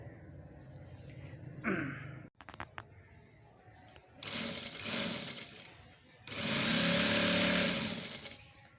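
A sewing machine stitches black thread on a shalwar in two sustained mechanical whirring runs, each a couple of seconds long, with quieter handling clatter between them; the machine is close and fairly loud.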